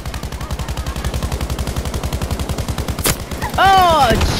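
Battlefield V combat: a rapid stream of rhythmic automatic gunfire, then one sharp, isolated sniper-rifle crack, followed by a rising and falling whistling tone, fairly loud throughout.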